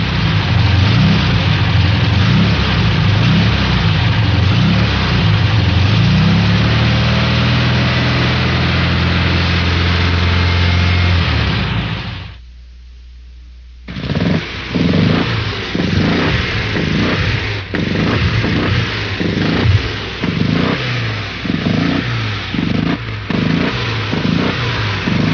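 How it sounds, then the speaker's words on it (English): A Volkswagen engine runs steadily at a loud, even note, then after a brief drop the same engine returns with loose cylinder heads, giving a choppy, uneven rhythmic pulsing and ticking throughout. "Now, the sound of our normal engine again, followed by an engine with loose heads."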